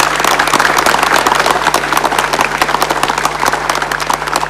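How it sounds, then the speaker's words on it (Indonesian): Crowd at a commemoration event applauding loudly and continuously, a dense rapid clatter of many hands with a steady low hum underneath. "Kita beri tepuk tangan yang meriah."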